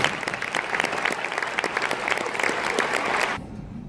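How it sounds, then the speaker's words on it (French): Audience applause at a New Year's wishes ceremony: steady, full clapping from a crowd indoors, sustained for over three seconds before cutting off abruptly. "On peut l'applaudir"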